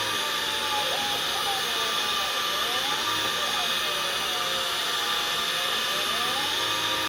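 A window-cleaning robot from AliExpress running loudly on glass, a constant high whining motor and suction drone with faint wavering tones, steady and close for the whole stretch.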